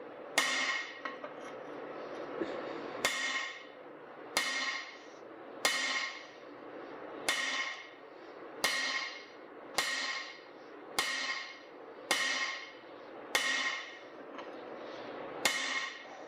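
Repeated hammer blows on the pivot pin of an Oliver Super 55 tractor, about a dozen sharp metallic strikes spaced roughly a second apart, each with a ringing decay, close and alone.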